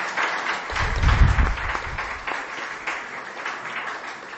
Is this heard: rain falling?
no